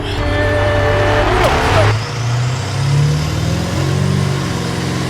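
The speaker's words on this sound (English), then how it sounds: "I'm gonna let the transmission shift itself again." A mini big rig truck's engine revs hard under acceleration, then drops as the automatic transmission shifts and climbs again, a loud, close, steady drone with a clear break in pitch partway through.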